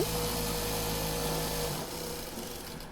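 A sewing machine stitches the sleeve of a lined blouse, its steady motor hum running loud and close for nearly two seconds before cutting out and leaving the room quiet.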